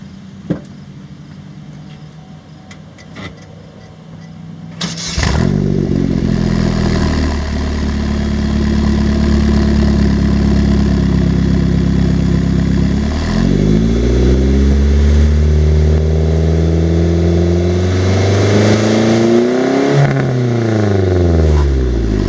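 Pontiac Solstice with a turbo engine and 3-inch Magnaflow exhaust: quiet, then a sharp start at about five seconds, steady idle, and two deep rising revs that fall back to idle, loud and close.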